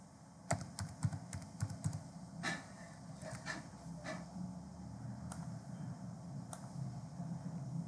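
Keys clack on a computer keyboard in scattered bursts of quick taps, close and fairly quiet, with short pauses between groups of strokes over a low room hum.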